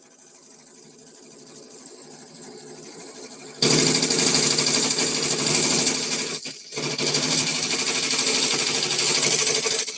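Sewing machine stitching a pink heavy-duty canvas project bag: faint motor hum at first, then loud rapid needle hammering that pauses briefly and resumes at a steady pace.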